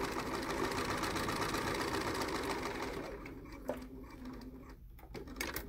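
A sewing machine stitches over a fabric seam a second time, running in a fast steady whir for about three seconds, then slowing into shorter bursts with brief pauses.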